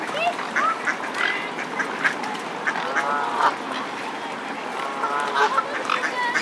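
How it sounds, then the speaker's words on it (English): Many ducks quack busily at close range near swans in Windsor, overlapping calls and honks forming a lively, continuous chatter with no talking. "And look at all the ducks"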